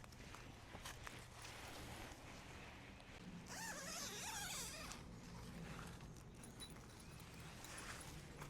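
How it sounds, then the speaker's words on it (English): A zipper running along the side of a mesh bird net covering a blueberry bush, a faint rasping zip in the middle of otherwise quiet outdoor background with light rustling. "the zipper, it zips along the side to"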